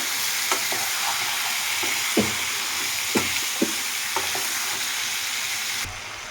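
Pieces of chicken liver and gizzard fry in oil with a steady bright sizzle, broken by several distinct spatula knocks and scrapes as they are stirred. The hiss drops off slightly at the very end.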